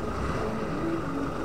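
A motorcycle engine running on the streets of Sonsonate, El Salvador, a steady low drone with wind rush, close and continuous for a brief stretch.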